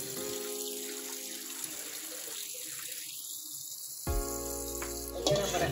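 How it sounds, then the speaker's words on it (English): Kitchen tap water running steadily into a bowl of cauliflower, a continuous splashing flow with a shift in tone near the end as the bowl fills. "So we're just gonna fill it up with water."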